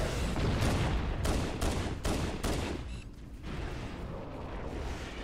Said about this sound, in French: Hop là, on va lancer une grenade.